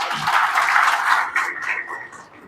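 Audience clapping at a district TB-free village panchayat event, a dense broadband patter of applause filling the clip, steady then gradually thinning toward the end.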